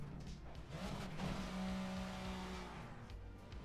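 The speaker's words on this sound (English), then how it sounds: "The sound of the cars is really good." Racing car engines in a racing video game, front-wheel-drive super tourers, drone and rise in pitch over a steady rumble, with a brief tonal whine in the middle.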